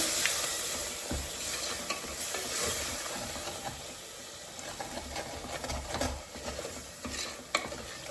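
A cup of curd is stirred into a hot cooking pan, giving soft scraping and stirring sounds over a low, steady sizzle, close and fairly quiet with no talking.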